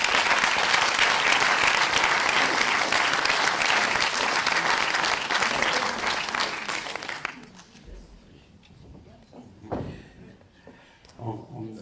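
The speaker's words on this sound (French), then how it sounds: "Si vous voulez bien, d'applaudir Madame Ginette Sarr." Sustained, dense applause from an audience at the inauguration of a prize ceremony, lasting about seven seconds before cutting off, followed by quiet rustling and a few low voices.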